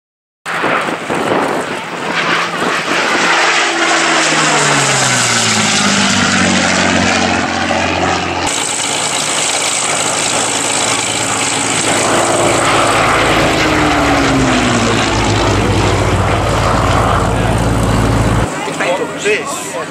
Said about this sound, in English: the sound of a Rolls-Royce Merlin engine